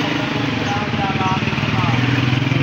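A motorcycle with a noisy, rattling chain runs steadily close by, its engine hum continuous and fairly loud throughout the short stretch.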